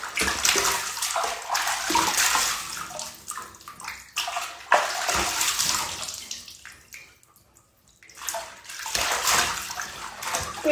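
Water splashing and running in a bath during rinsing, with bursts of sloshing and pouring, a quiet gap near the end, then the splashing resumes, close and alone.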